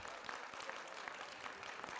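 A church congregation at a healing and deliverance service claps steadily together, a soft, continuous wash of hand claps heard from a distance.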